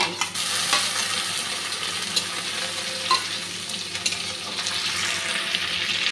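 Steady sizzling of shidol shutki (fermented dried fish) frying in a pan, with occasional scrapes of a utensil stirring it, continuous and close throughout.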